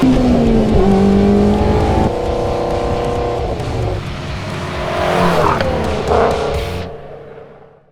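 Custom back-road Shelby GT350 Mustang with a 5.2-liter flat-plane-crank Voodoo V8, loud and close, revving through rising gear pulls and upshifts before the engine note fades away near the end.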